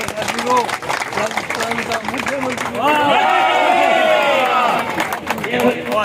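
A crowd at a political welcome event for a Rajasthan legislator claps and cheers over loud talk and chanting voices, with the clapping swelling midway into a fuller burst of applause and shouts.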